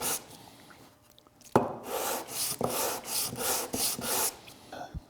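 Hand sanding of wood with sandpaper on a kitchen table during box making: after a quiet start, a sharp contact leads into rhythmic back-and-forth rasping strokes, about eight of them, close and fairly loud.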